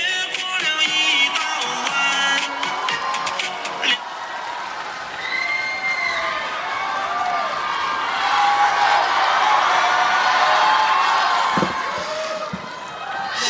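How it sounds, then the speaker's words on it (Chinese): Large theatre audience at a Deyun Society New Year's crosstalk show in Beijing breaking into sustained applause and cheering, a dense roar of clapping that swells and holds throughout. "感谢大家的热情掌声"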